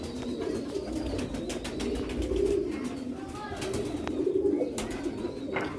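Sialkoti pigeons coo in soft, repeated throaty rolls close by, several birds overlapping in a continuous murmur with faint chirps, while a person speaks now and then over them.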